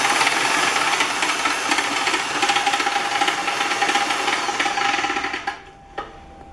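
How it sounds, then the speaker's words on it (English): A drill-driven Gap Power shingle hoist runs its cart up the track with a steady, close whirring and rattling motor noise, then cuts off sharply near the end and leaves a brief click. "we'll start by running the drill, and when we pull the trigger, it'll take the cart and I'll run it up to the top"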